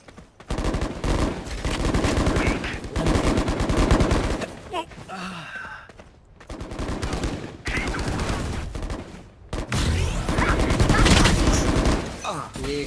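Bursts of rapid Bulldog rifle fire from the video game Valorant come in long volleys with short gaps, loud and close, and a voice talks faintly between them.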